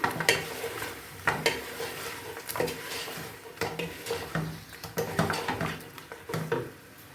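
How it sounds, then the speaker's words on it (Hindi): Beef frying with salt, black pepper, ground coriander and turmeric sizzles steadily in a pan, broken by repeated scraping and clinking strokes of a utensil stirring it, close and alone with no talking. "अब इसमें हम ये मसाले ऐड कर लेंगे, नमक, काली मिर्च, पिसा धनिया, हल्दी, और इसको हमने अच्छे से मिक्स कर लेना है।"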